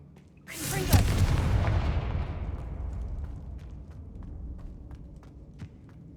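A loud, close whooshing blast from the Confringo fire spell in the game Hogwarts Legacy bursts out abruptly, then rumbles and fades over several seconds while faint footsteps and small clicks continue underneath.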